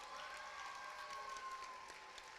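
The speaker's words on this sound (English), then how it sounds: "please give them a round of applause" Faint, steady applause from an audience at an elementary school play, clapping for the parents who helped with props, costume fittings and makeup, lasting a couple of seconds with no voices.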